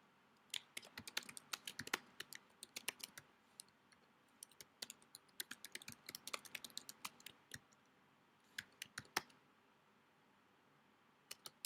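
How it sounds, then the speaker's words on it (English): Typing on a computer keyboard, a steady patter of quick, light key clicks in bursts with short pauses, close by and quiet, no one speaking. "I'm gonna type in something."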